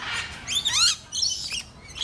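Australian birds in an aviary at the Jacksonville Zoo give several loud, harsh squawks and chirps in quick succession, close by and with no talking.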